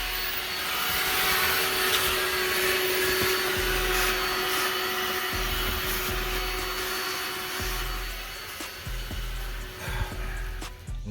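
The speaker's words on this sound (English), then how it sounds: "Sal's gonna start with the vacuum." A vacuum cleaner runs inside a boat's interior with a loud, steady whine, its tone shifting as the nozzle moves and bumps across surfaces.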